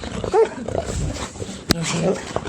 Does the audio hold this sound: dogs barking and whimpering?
yes